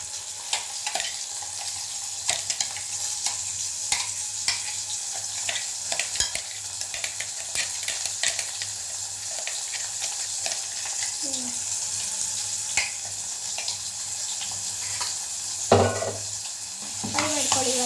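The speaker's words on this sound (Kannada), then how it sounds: "ನೋಡಿ ಇವಾಗ ಮಸಾಲ ರುಬ್ಕೊಂಡಿದ್ವಲ್ಲ ಹಾಕ್ತಾ ಇದ್ದೀವಿ." Ground masala paste for rasam sizzles loudly in hot oil while a spoon stirs and scrapes the pan, a steady bright hiss broken by scraping strokes and a louder clatter near the end.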